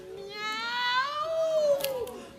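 A single drawn-out meow rises and then slides downward, close and clear, with no other sounds around it.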